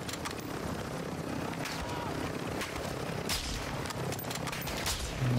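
Helicopter in the video game DMZ, a constant loud rotor thrum and engine roar mixed with bursts of gunfire throughout, while a player talks over it.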